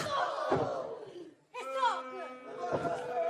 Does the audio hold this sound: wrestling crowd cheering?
yes